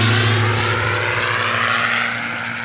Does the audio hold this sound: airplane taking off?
yes